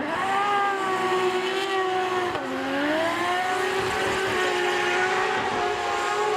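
A drift car engine held at full throttle at Okayama International Circuit, a loud steady high-revving roar with a brief dip in pitch midway, continuous and close without voices.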